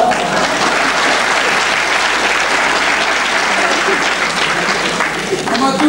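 An audience breaks into full applause, a dense, loud wash of many hands clapping that holds steady throughout, with a voice faintly heard under it.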